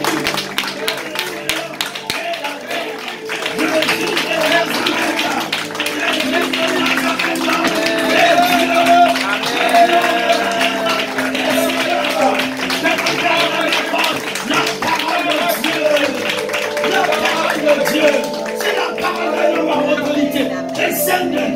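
A church congregation at a Sunday worship service claps and cheers in a sustained rhythmic burst, dense hand claps layered with raised voices and a preacher's speech, loud and close throughout.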